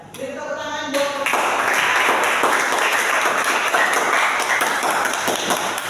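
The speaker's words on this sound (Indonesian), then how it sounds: "Beri tepuk tangan buat" An audience applauds after a group presentation, a dense burst of clapping that starts abruptly after a brief voice and carries on steadily and fairly close.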